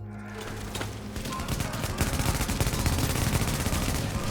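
The Showstopper shotgun in The Division fires on full auto, a rapid, loud string of booming blasts with a heavy, continuous rhythm through most of the burst.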